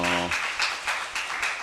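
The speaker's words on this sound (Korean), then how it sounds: "하나님께 영광의 박수 돌리겠습니다" Applause breaks out in a church congregation during a worship prayer service, a brief burst of clapping that rises after a sustained tone fades, with rhythmic swells continuing to the end.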